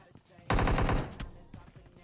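A loud rapid burst of automatic gunfire in PUBG Mobile lasts about half a second, followed by a single sharper shot and fading quieter game sounds.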